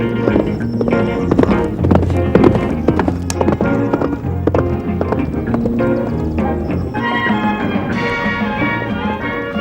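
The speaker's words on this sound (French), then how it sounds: "Aucun cheval ne peut être comparé à l'akaltéké" Akhal-Teke horse hooves clip-clopping in a steady, close rhythm of sharp taps, set against a dense, continuous musical background that runs loud throughout.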